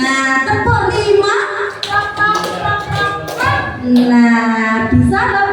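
Quick rhythmic hand claps and taps in a classroom, in a patterned clapping sequence, close and fairly loud, mixed with voices chanting or talking along.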